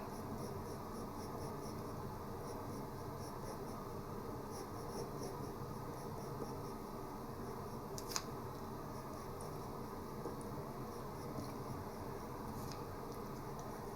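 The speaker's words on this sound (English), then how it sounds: "now see how I'm sketching in pencil?" Pencil sketching on paper during a beginner drawing lesson, a faint steady scratchy rasp running continuously under a quiet room hiss, with one brief sharper tick partway through.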